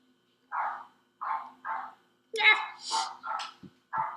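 A dog barks in short repeated bursts out in the bush, a series of separate barks at irregular intervals, fairly close and clear with quiet gaps between them.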